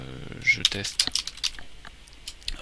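Quick irregular clicks of fingers typing a first tweet on a computer keyboard, light and close, mixed with a person speaking.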